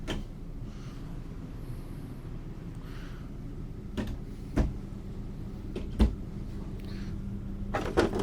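Drawers in the kitchen of a 2023 Renegade Valencia 38BB RV are pulled open, giving several short knocks and sliding thumps in a quiet interior.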